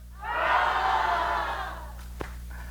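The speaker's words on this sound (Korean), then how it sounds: "자, 우리 다 같이 함성을 지르요." A church congregation in Korea shouts together in unison, one loud sustained cry that swells and then tapers off, followed by brief clatter.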